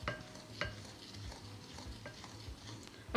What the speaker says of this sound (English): I'm going to mix all the dry ingredients